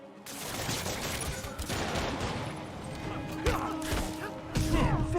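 Gunfire from the Spider-Man Remastered video game: a dense, continuous fusillade of shots with clanking impacts and crashes, loud and near, with a few sharper bursts near the end and faint voices mixed in.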